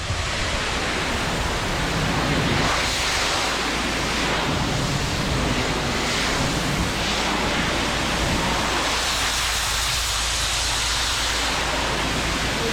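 Pressure washer with a rinse tip blasting water at weeds, a loud, continuous broadband hiss and rush that stays steady throughout with only slight swells.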